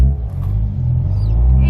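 A van's exhaust gives a deep, loud rumble close by, steady for a moment with a slight swell as the engine revs.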